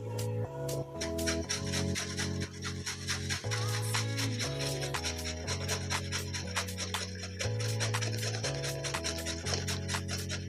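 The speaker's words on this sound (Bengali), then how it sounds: "পেঁপেটাকে এইভাবে আমি ঘষে নিচ্ছি" Papaya is rubbed against a hand grater in steady, repeated rasping strokes, close and continuous, with a rhythmic scraping texture throughout.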